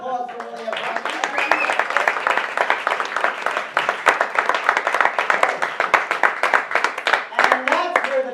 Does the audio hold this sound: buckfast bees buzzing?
no